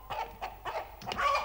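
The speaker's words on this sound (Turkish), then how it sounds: "Baba, gıdaklıyorlar." Chickens clucking close by in a quick series of short, rising calls, about five bursts in a row, with no talking.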